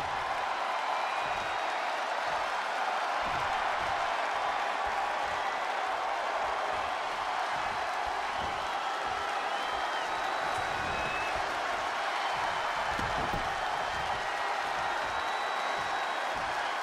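A wrestling arena crowd in WWE 2K20 roars and applauds continuously during a Xavier Woods versus Seth Rollins match, a dense, steady wash of cheering with commentary-like voices underneath.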